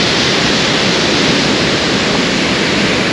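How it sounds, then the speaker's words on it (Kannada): Fanes waterfall in the Italian Dolomites roars with a steady, dense rush of falling and spraying water, close and loud, unbroken throughout with no voices. "ಎಂಥ ಬ್ಯೂಟಿಫುಲ್ ಫಾಲ್ಸ್."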